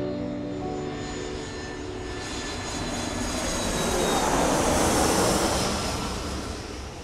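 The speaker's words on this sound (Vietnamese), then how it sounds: "Máy bay hạ cánh ở sân bay." Airplane landing at an airport, a broad jet-engine roar that swells from a steady rumble to a loud peak around the middle, then eases slightly, with no voices.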